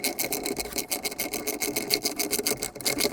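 Ratchet with an 8mm socket tightening a nut on a 100 watt solar panel wiring setup, a rapid rhythmic clicking rasp repeating steadily, close and moderately quiet with no talk.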